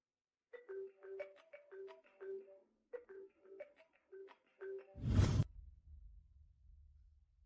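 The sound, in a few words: telephone ringing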